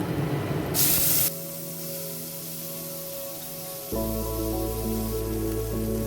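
Chopped tomato and black cumin with a dried red chilli hit hot oil in a tempering: a loud burst of spray-like hiss at the start, then a steady sizzle that drops and flattens, with no talking.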